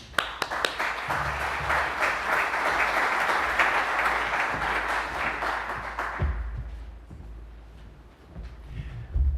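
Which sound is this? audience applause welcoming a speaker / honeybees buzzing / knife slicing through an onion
audience applause welcoming a speaker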